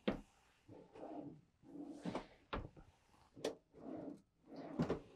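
Drawers in a 2025 Newmar London Aire motorhome slide open and shut several times, a series of nearby wooden thumps and rolling scrapes at a fairly quiet level, with no talking.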